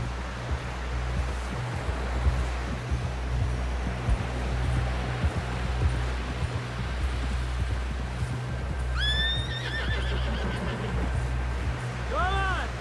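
A horse in the Red Dead Redemption 2 video game gives a short whinny, then a second one at the very end, over a steady low rumble with faint hoof beats and ambient noise.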